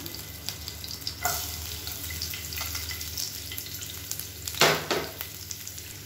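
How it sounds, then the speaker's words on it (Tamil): Finely chopped garlic sizzles in hot oil for egg fried rice, a steady crackling fry broken by a few sharp clinks and a brief louder scrape of stirring. "இப்போ எண்ணெய் சூடானதும் பூண்டு பொடியாக கட் பண்ணி வச்சுருக்கேன். அதை சேர்த்துக்கலாம்."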